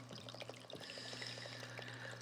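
A small indoor waterfall fountain trickles steadily, with a soft continuous flow and faint dripping patter throughout, quiet and close, with no voices.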